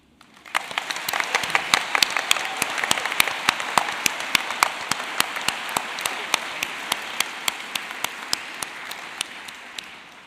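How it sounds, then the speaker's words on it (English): A commencement crowd of graduates and guests applauds in a large hall, a dense steady wash of clapping with sharp individual claps standing out, loud and sustained before tapering at the end. "Let's give them another round of applause"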